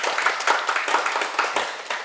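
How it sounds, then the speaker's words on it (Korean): Steady audience applause in a lecture hall setting, continuous overlapping claps at moderate loudness with a slight rhythmic pulse throughout. "이거 여러분들 축하 박수로 보내주세요."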